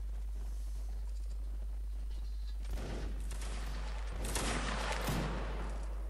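Musket volley fired without orders during a battle reenactment of the Semyonovsky and 30th Poltava regiments, heard as scattered bursts of shots over a steady low hum, with several sharp cracks clustered near the middle and end.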